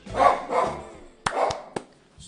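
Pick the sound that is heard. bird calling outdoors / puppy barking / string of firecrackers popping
puppy barking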